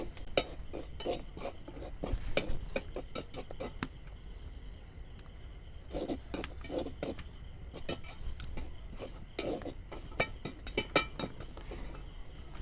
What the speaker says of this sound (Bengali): এবার আমি এই পাঁপড়গুলো ভেজে দেখাচ্ছি। দেওয়ার পরে এইভাবে অনবরত নাড়তে হবে।